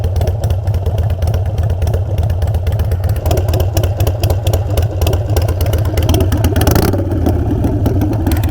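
Harley-Davidson Iron 883 motorcycle fitted with Kinetic 540 Laterals exhaust, idling with a loud, steady, deep rumbling thump close by, with a brief rev near the end.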